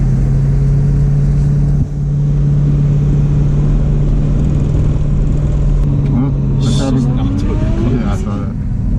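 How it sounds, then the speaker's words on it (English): Chevrolet Corvette on the Nürburgring track, its engine a loud, steady interior drone with a strong low hum, rising into a revving surge near the end, with people talking over it. "So the car sounds a lot better."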